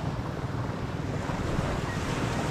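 Sea waves washing onto the shore of a beach, a steady, broad roar of surf with wind buffeting the microphone throughout, loud and continuous with no voices.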